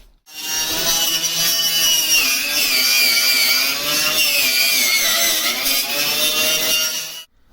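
An angle grinder cuts into the metal body of a Mk3 Vauxhall Cavalier with a loud, continuous high-pitched whine that shifts slightly in pitch as it bites, starting and stopping abruptly.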